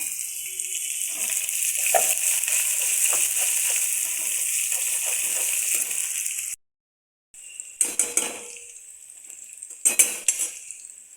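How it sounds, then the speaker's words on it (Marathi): Finely chopped onion dropped into hot oil in a home kitchen pan, a steady bright sizzle with a brief break, then renewed sizzling under scraping and clinking of a utensil, close and fairly quiet. "हा बारीक बारीक कापलेला कांदा तेलामध्ये टाकला"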